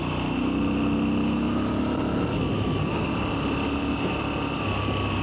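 A Moto Guzzi motorcycle engine drones steadily while riding on winding roads near Ivančna Gorica, a loud continuous hum with a slight pitch glide, close and unbroken, with wind in the background.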